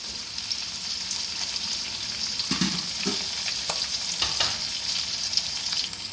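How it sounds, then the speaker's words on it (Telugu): Vegetables fry in hot oil for veg pulao, giving a steady, close sizzle with a few brief stirring clatters from the pan and no talk. "చూడండి, ఇలా ఫ్రై అయితే చాలండి."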